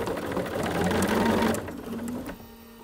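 A sewing machine runs a steady stitching seam through layered faux chenille fabric, whirring evenly up close, then slowing and stopping just before the end.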